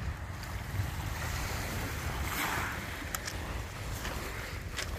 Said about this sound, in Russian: тут даже ветер дует. Холодный.